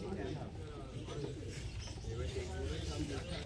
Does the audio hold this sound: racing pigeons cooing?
yes